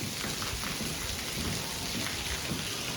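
Steady heavy rain pours down during a monsoon downpour in Mehsana, with thunder rumbling low underneath, a dense continuous hiss with no talk.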